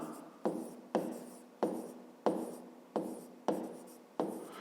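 A pen writes out a maths exercise by hand, a steady series of about eight scratchy strokes repeating at an even pace, close and fairly quiet.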